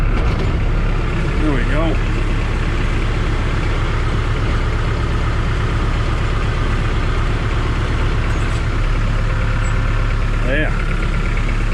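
A tractor pulling a homemade plastic mulch layer runs loud and steady, with a continuous close engine drone throughout. Someone speaks briefly over it.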